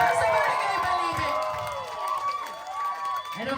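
A crowd at a barangay gathering in Balite cheers and shouts at a politician's appearance, a loud sustained roar of many voices with some clapping mixed in.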